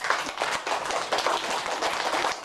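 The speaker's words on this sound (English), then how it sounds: "let us clap our hands for them" An audience claps hands together in dense, steady applause at a school class event, continuous and fairly loud for the whole stretch.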